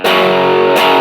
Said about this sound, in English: Let's switch it over to distortion and see what the distortion sounds like